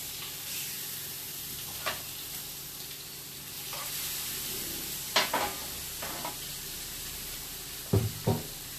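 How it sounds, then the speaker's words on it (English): Salmon sizzles steadily in a frying pan, a soft continuous crackle with occasional louder pops and clinks of a utensil. "All right, we got it sizzling."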